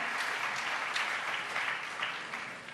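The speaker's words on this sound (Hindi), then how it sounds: "उनके लिए एक बार ताली बजाकर अभिनंदन" Audience at a Hanuman Katha religious discourse in Sri Lanka claps in thanks, a steady wash of many hands that swells and fades slightly over a few seconds with no talking over it.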